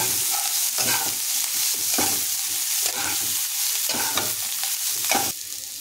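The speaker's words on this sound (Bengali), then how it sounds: "কয়েকটা কাজু এবং কয়েকটা কিশমিশ, দিয়ে এটাকেও সবজির সাথে ভালো করে নাড়াচাড়া করে আমি ভেজে নেব" Vegetables with a few cashews and raisins stir-fried in a pan for homemade fried rice: a soft, steady sizzle with repeated close spatula scrapes and stirs, and no speech.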